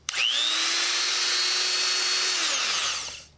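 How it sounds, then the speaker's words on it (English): A green Makita electric die grinder spins up with a sharp start and holds a steady high-pitched whine with a constant hum beneath it, then winds down at the end. It runs alone and close, with no talk. "Here's the grinder itself. Makita green color. Doesn't make any funny noises."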